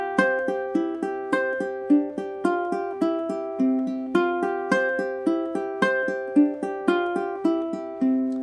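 Ukulele finger-picked chords of a song, a clean, bright plucked pattern of steady notes in even rhythm, played alone and close with no voice.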